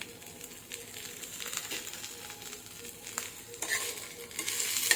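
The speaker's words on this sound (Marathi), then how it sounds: "आता आपण टाकतो याच्यामध्ये 2 चमचे तीळ आणि अर्धी वाटी सुकं खोबरं आहे ते टाकते" Sesame seeds and dry coconut stir-fried in a pan, a soft, continuous sizzle with gentle scraping and rustling as the mixture is stirred, close and fairly quiet, swelling slightly toward the end.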